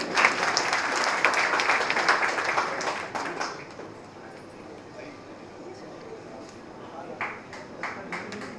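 An audience at a Jharkhand Mahotsav cultural gathering applauds loudly for a few seconds, then the clapping thins and fades into a quieter murmur with a voice or two over it.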